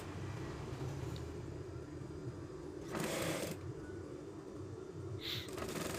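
A sewing machine stitches a Japanese zipper onto a garment sleeve with a faint, steady low whir, broken by a couple of brief louder rustling bursts.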